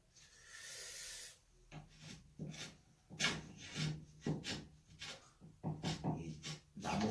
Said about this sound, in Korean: 이 나무 썰리는 소리가 참 좋아요. 서걱서걱.